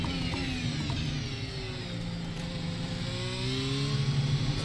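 An F1 car's engine in the iRacing simulator on a flying lap, revving through rising and falling tones as the car accelerates and shifts. The engine drones steadily and moderately loud, with no voices over it.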